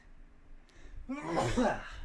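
A single sharp sneeze bursts out after a quiet moment, close and fairly loud, with a brief intake before it.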